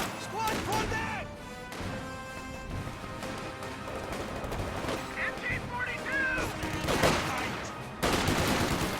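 MG42 machine gun fire in a World War II video game match comes in scattered bursts mixed with other gunshots and crashing impacts, while voices call out over the battle noise.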